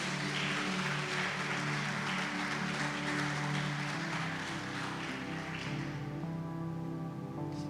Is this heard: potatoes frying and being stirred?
no